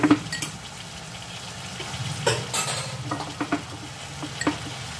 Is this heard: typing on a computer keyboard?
no